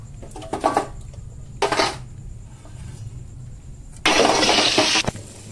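Chicken pieces and potatoes dropped into a hot wok after dried red chilies, producing bursts of clattering and sizzle, including a loud hissing rush near the end, over a low background hum.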